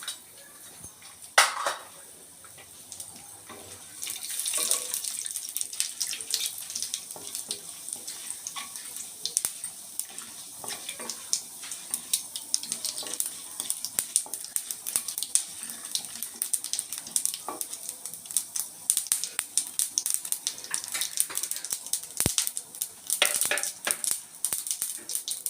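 Oil tempering of mustard seeds, urad dal, chana dal and peanuts sizzles steadily for a carrot coconut fry, a continuous bright hiss speckled with small crackles and pops, with occasional clinks of utensils.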